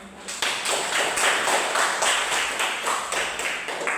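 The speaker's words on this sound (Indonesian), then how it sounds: "Oke, tepuk tangan." Students in a classroom clap together in a quick, steady rhythmic pattern, a series of sharp, close, evenly spaced hand claps lasting about four seconds.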